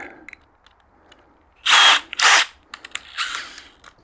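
A power drill runs in two loud bursts while a Fanatec Clubsport GT sim racing cockpit is assembled, followed by a weaker whirring burst and small clicks and knocks, with no talking.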